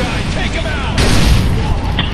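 An explosion going off close by in the video game Far Cry 3, a loud booming burst partway through over ongoing game noise and a talking voice.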